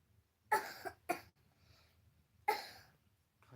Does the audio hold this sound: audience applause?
no